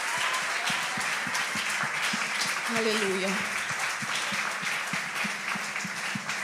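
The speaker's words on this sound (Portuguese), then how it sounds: "Aplauda mais forte ao Senhor." Church congregation applauds during an evening service, continuous crowd clapping with steady rhythmic beats under a voice speaking and exclaiming over it.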